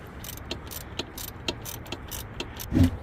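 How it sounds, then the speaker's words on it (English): An 8mm ratchet tightens a bolt back down on a Ford F-150, giving a steady run of close, rhythmic pawl clicks about twice a second, ending with a short heavier thud. "And then with an 8mm, go ahead and screw it back down."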